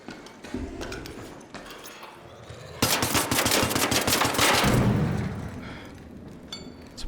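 Sustained bursts of gunfire from light and medium ammo weapons in the shooter Arc Raiders on the Dam Battlegrounds map, a loud rapid rattle of shots lasting about two seconds midway, with scattered quieter shots and clatter around it.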